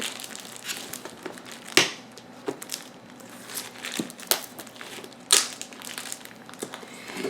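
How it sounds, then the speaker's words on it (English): Knife slicing open a cardboard Amazon shipping box holding a Lenovo IdeaPad 3 laptop, close-up crunching and crinkling cardboard with several sharp tearing bursts spread across the cut, no talking. "Got my trusty knife. Cut into the package here."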